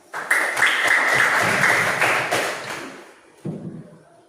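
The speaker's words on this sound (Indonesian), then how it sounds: "Oke, tepuk tangan." A small classroom group applauds after a student group presentation, a burst of clapping lasting about three seconds, then a short second flurry before it stops.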